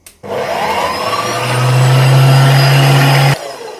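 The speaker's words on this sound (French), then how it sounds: "Donc je vais pétrir la pâte pendant quelques minutes" Electric mixer kneading pizza dough, a loud steady motor whir that ramps up slightly and runs about three seconds before cutting off abruptly, close and alone.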